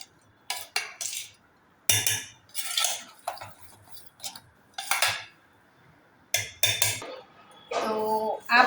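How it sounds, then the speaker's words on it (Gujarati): Ground rice stirred into handvo batter in a bowl at home: clinking utensil scrapes and stirring strokes come in irregular bursts, fairly close, with quiet gaps between and no talk. "આ ચોખા પીસાઈને તૈયાર થઈ ગયા છે તેને પણ એડ કરી દઈશું। અને મિક્સ કરી દઈશું આ રીતે।"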